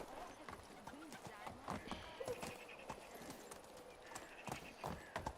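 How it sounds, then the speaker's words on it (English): Horse hooves clip-clop steadily as a rider moves through a medieval town center in the video game Medieval Dynasty, the rhythmic footfalls accompanied by soft ambient sounds with no talk. "Just riding the horse through the center of their town area."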